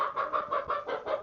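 Male peacock calling outdoors, a series of repeated nasal honking cries in a steady rhythm, moderately distant and fairly faint, with no talk.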